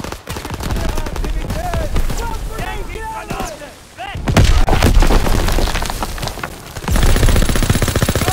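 Dense battlefield din from Call of Duty WWII: nonstop machine-gun chatter, rifle fire and booming artillery blasts, loud and layered throughout, with shouted voices mixed in.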